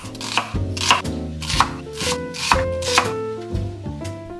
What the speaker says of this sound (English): I start by chopping up potatoes and an onion.